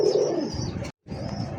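A pigeon coos close by in a short, continuous call with one brief pause, heard alone without speech.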